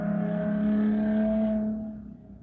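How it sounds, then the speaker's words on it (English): A single car passes on the road, its tonal engine hum holding steady, then fading and dropping away as it moves off. "You heard how that car passed?"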